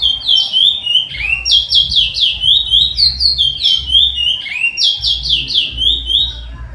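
A male songbird sings loud, bright repeated whistled phrases close by, in steady bursts that run almost without a break, along with a low background hum.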